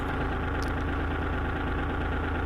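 Tractor engine running steadily at close range, a dense low rumbling drone with a regular throb and mechanical rattle, loud and constant with no voices.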